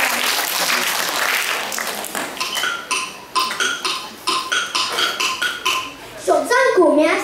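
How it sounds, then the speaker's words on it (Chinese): Audience clapping at an elementary school anniversary talent show, a dense round of applause that thins into scattered separate claps and ends with children's voices. "请大家掌声欢迎陈公府副理出场。"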